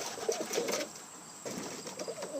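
Portuguese tumbler pigeons, including a pearl-eyed young hen, coo softly in a loft, with low murmuring calls in two bursts at close range and no talk.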